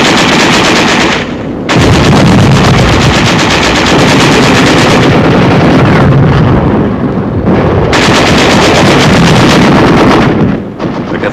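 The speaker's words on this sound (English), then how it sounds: "There is some machine gun fire and occasional shells, but little concerted resistance." Wartime street battle with sustained machine gun fire and occasional shell bursts, very loud and dense throughout, rapid rattling with heavy booms layered in and only brief dips in intensity.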